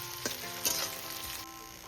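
Onions sizzle in hot oil in a pan while being browned, with a continuous gentle hiss and a couple of utensil clicks and scrapes as they are stirred.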